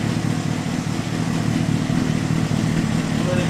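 A Honda CBR600RR motorcycle engine runs on a stand, a steady low idle drone with a constant rumbling texture throughout, close and loud.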